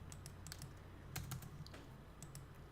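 Quiet, quick keystrokes tapped on a computer keyboard, scattered clicks in short bursts over a steady low hum in a quiet room.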